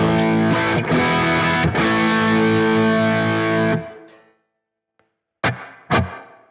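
A guitar effects unit on its factory preset gives a thick, distorted tone with sustained chords, which stop after about four seconds. After a pause, two short strums return.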